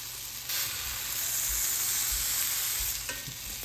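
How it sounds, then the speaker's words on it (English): Compound butter melts and sizzles on plant-based steaks in a hot pan, a steady close frying hiss that swells after the first half-second and holds loud throughout, with a few low clinks and thumps. "now we're gonna add some of our compound butter on top. You get that melting in, get some extra flavor"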